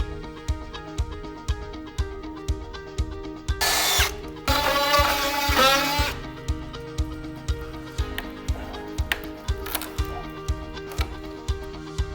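Power drill boring a hole for wiring in an off-grid workshop build, with a steady close mechanical whir broken by repeated ratcheting clicks and a louder, harsher burst of drilling in the middle.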